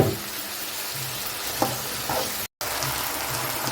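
Potatoes for aloo fried rice frying in a pan, a steady close sizzle with a few soft stirring scrapes and a very brief dropout near the end.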